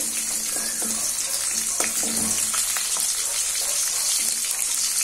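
Onions for sambar sauté in hot oil, a loud, steady, dense sizzle and crackle that runs without a break.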